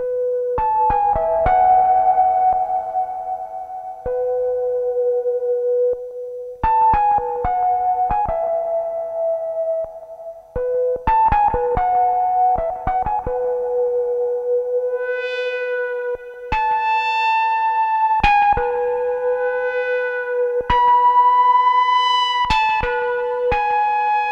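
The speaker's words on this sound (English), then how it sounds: "in the second slot, I'm going to add the TC reverb and dial it down so it's not too crazy" A breathy Behringer DeepMind 12 synth flute plays sustained melodic notes and short runs, each phrase trailing off in a spacious, dialed-down TC reverb tail.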